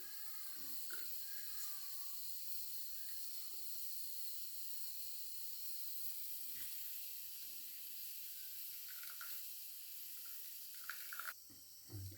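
Ground coconut squeezed by hand to press out coconut milk: steady trickling and dripping liquid over a soft hiss, with occasional wet squelches and a few louder handling knocks near the end.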